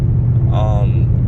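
A car fitted with a McLeod RST clutch is being driven. Its exhaust gives a steady, heavy low drone, and a faint whining tone from a worn wheel bearing rises briefly in the middle.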